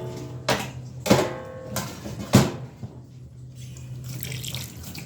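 Cauliflower is washed in a kitchen sink under a running tap, giving a steady water stream broken by several splashy bursts as the florets are moved and rinsed, close up with no talking.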